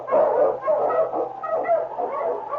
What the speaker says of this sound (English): The Wonder Dog King, swiftest and strongest of Eskimo lead dogs, blazes the trail through storm and snow for Sergeant Preston